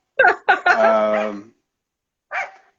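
Nearby, a dog gives two quick barks, then a drawn-out whimpering whine. After a pause of about a second, one more short yelp follows.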